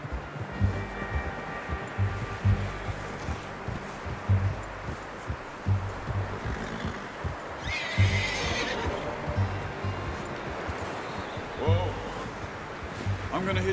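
A horse neighs and snorts in Red Dead Redemption 2 amid an outdoor ambience of rustling and footsteps, with a voice talking over parts of it.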